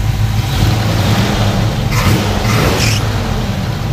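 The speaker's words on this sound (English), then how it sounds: "So, go ahead and rev it up a little bit." A 1978 Chevrolet K10 pickup's engine rumbles steadily close by, swelling in a couple of brief revs partway through before settling back to a running drone.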